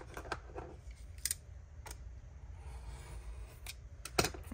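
Scissors cut rolled paper for window tags in a series of sharp, close snips, some grouped in quick pairs, over a faint quiet room background.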